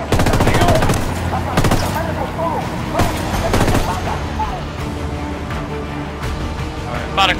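Airsoft guns fire in rapid bursts and single shots during a milsim engagement, loud and close, with sharp repeated cracks and people talking through the shooting.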